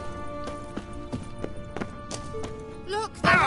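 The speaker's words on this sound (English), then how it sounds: "Another horse. Almost exactly like the last one." Horse hooves clip-clop in The Witcher 3, a steady series of hoof strikes roughly every third of a second under in-game voices, ending in a louder burst of game sound.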